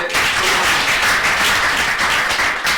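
Students welcomed at a Congolese higher institute receive audience applause, a thick continuous roar of clapping from a large crowd, loud and near throughout.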